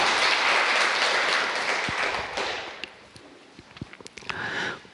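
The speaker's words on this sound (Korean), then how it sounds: "우리 감사하는 마음으로" A church congregation applauds the choir, a broad wash of clapping that swells at first, then thins into scattered individual claps before a brief final flurry.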